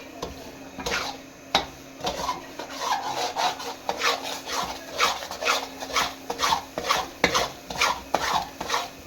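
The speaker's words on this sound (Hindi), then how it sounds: "नीचे भी नहीं लगने देना, साथ साथ चमचा हिलाते जाना है।" A spoon stirs panjiri with nuts such as pistachio and almond in a cooking pan, giving rhythmic scraping strokes about every half second that grow steadier and louder as they continue, with no talking.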